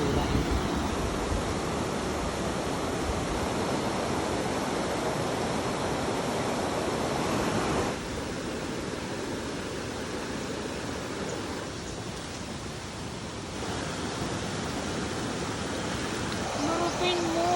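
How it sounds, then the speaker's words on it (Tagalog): Strong river current rushing steadily against a trash-catching net, a continuous broadband roar that stays loud throughout with a slight dip midway and no voices. "Malakas pa kasi yung tubig, so nabubuwal pa yung net namin."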